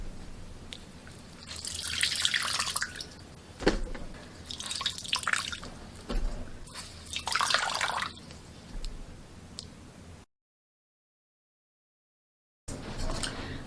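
Wet paper pulp squeezed by hand for papier-mâché clay, giving three bursts of dripping, trickling water a few seconds apart, close and moderately loud, with no talking.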